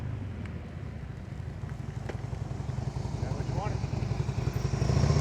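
Motorcycles in slow-speed riding practice approach with a low engine rumble that grows steadily louder and nearer, partly under a voice.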